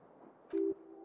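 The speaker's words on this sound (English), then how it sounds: "Beep, beep, beep. The alarm is ringing, Harry." A single electronic alarm beep, a steady mid-pitched tone lasting about a quarter second, sounds over a low hum with no talk.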